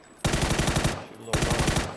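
Rapid-fire gunfire at a shooting range in the video game Starfield, two close, loud bursts of quick repeated shots separated by a brief pause.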